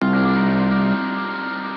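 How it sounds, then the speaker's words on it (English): An electric guitar chord with distortion, delay and reverb rings out, thick and sustained, its washy delayed tail smearing into reverb as it fades, in a shoegaze style. "I have two different guitars that both have a bunch of spatial effects on them"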